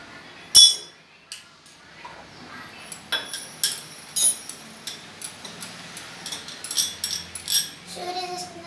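A spoon clinks against a glass or pot while sugar goes in for a summer lassi, a sharp first tap followed by a string of light, irregular metallic ticks and scrapes, close and clear.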